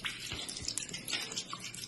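Water poured into a container holding an OPPO A5 Pro phone, a faint, steady trickle with light splashing and drips, heard alone and fairly quiet.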